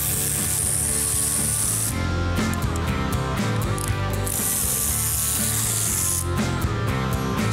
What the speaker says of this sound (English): So now I'm gonna undo all the bolts that hold the third member in place